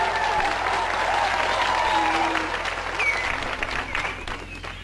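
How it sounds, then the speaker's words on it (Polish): Applause from a crowd at a televised Polish music show, a steady wash of clapping with some voices and faint cheering mixed in. "Bardzo brawa."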